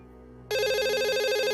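After a brief quiet hum, a loud electronic phone ringtone starts abruptly and keeps ringing steadily with a warbling tone.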